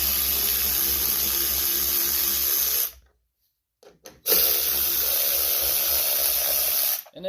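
Power tool whirring steadily while bolts are taken off a Briggs & Stratton 250cc engine on an Agri-Fab leaf vac, a 5/16 socket on the job; loud and continuous, a short pause in the middle, then it resumes.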